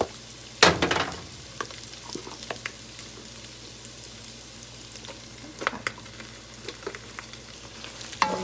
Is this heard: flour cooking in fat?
yes